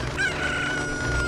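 A cucco chicken in The Legend of Zelda: Ocarina of Time crows and clucks, a short, loud, nasal squawk over game background sound, close and alone without talk.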